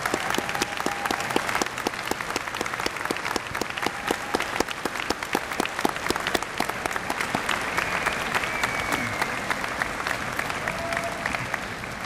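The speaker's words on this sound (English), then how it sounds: "so the graduates can applaud them" University graduates at a convocation ceremony give their standing families sustained applause in a large hall, a dense even roar of clapping at moderate level, with faint voices beneath.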